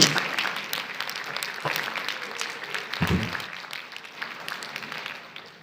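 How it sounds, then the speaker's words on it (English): Audience applause at a labour market forum, moderate and steady for several seconds while a speaker takes a seat, with scattered claps and a fading tail. "you can't stop the applause until the person is seated"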